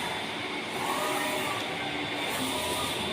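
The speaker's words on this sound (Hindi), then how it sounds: "ये देखिए बहुत ही बेहतरीन प्रिंट हो रहा है।" A flex printing machine printing a flag runs with a steady, continuous mechanical whir and hiss at moderate loudness, with no pauses or talking over it.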